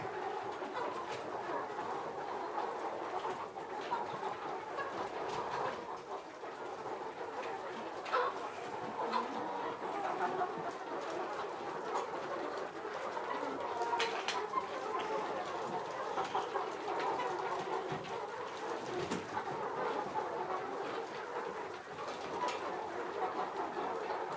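Young Ataks pullets clucking and chirping steadily inside a chicken coop on their second day, a busy continuous flock chatter close by with occasional louder calls and no talk.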